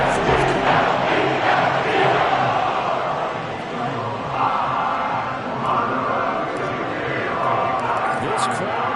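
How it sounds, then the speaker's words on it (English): A football stadium crowd roars and cheers continuously after a fourth-quarter pick-six ties the game, loud and dense throughout, with shouts rising above the din. "This crowd alive again."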